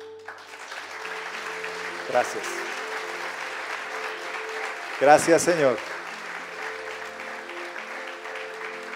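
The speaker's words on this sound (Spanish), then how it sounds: "¿Por qué no le doy un aplauso al Señor?" A church congregation applauds in a steady, moderate wash of clapping during a Spanish-language service, with a voice briefly speaking over it twice.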